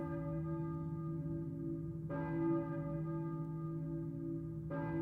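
A church bell tolls in the Silent Hill video game, two strong strikes with long ringing decay over a steady low drone, fairly loud and with no talk.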